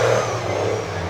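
A drift car at a British Drift Championship pro-am qualifying round in Birmingham revs hard in a short, loud, sustained engine howl.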